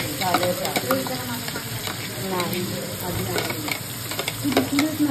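Oil sizzles in a pan while ingredients for matar paneer masala are fried and stirred, with steady crackling, scraping strokes and some clatter close by, and faint voices in the background.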